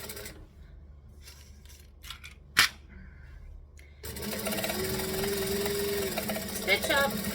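A few soft clicks and a sharp tap sound in near silence, then a sewing machine starts up and runs steadily to the end, stitching up a pocket with a close, even mechanical whir.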